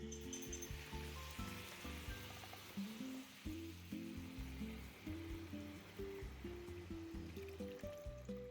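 Chicken stock poured into a pan of chicken pasty filling and starting to simmer, giving a faint, steady trickle and soft bubbling under a low background hum.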